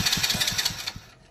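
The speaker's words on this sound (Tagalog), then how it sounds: "subukan nyo yung push start." A Euro Marvel motorcycle engine turns over on its push start with rapid rhythmic chugging pulses, close and fairly loud, before cutting off abruptly near the end.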